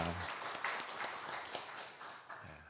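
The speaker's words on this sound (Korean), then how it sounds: "하나님께 영광의 박수 올려드립니다" A church congregation at a Sunday worship service applauding, a brief, fairly faint patter of clapping from a room full of people with a few louder claps standing out.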